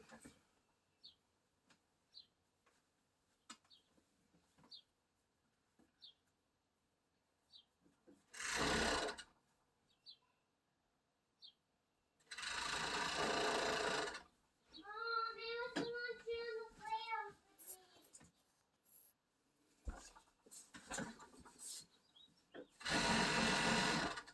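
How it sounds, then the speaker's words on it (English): A sewing machine stitches along the bottom edge of romper fabric in several separate short bursts, with quiet handling clicks between runs and a brief chirping sound in the middle. "And then sew along the bottom."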